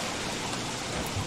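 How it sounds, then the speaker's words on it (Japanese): Steady rainfall in the survival game Don't Starve: Shipwrecked, a dense even hiss of falling rain, fairly soft and continuous with no voices. "雨が降ってきた。"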